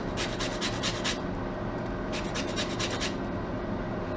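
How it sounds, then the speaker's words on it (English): A lemon is rubbed against a grater for zest in a home kitchen, giving two bursts of quick, close rasping strokes separated by a brief pause, with no voices. "We're also going to use some lemon zest."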